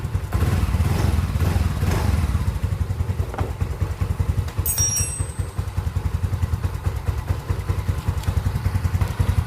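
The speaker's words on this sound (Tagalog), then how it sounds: "So painitin muna natin makina para maitono po natin yung sa may hangin" A stock Mio M3 110cc scooter engine idles while warming up, a steady close putter with a low, pulsing rhythm and occasional light clatter and thumps, running alone without talk.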